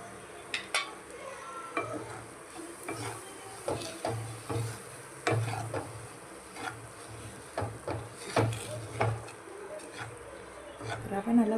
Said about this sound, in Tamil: இதில் இந்த ரவையை போட்டு நல்லா வறுத்து